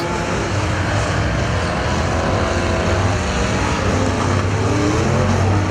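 Figure 8 race cars at Perris Auto Speedway, engines droning loud and continuous with overlapping motor roars from several cars circulating, steady throughout with no voices.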